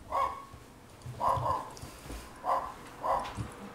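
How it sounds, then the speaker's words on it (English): A dog barks in four separate bursts, each a short double or single woof spaced about a second apart, moderately close over quiet game background during Minecraft play. "Someone has a dog."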